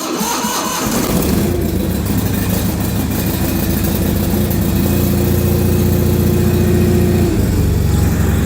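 An Onan engine on a John Deere 210 or 316 lawn tractor sputters through a cold start, then settles into a steady, loud, close idle with the choke on, alone throughout.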